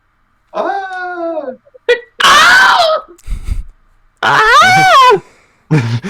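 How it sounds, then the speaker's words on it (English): A few loud, drawn-out Wilhelm scream sound effects in separate bursts with gaps between, piercing and close, like a stock pained yell. "the first time I heard the Wilhelm scream"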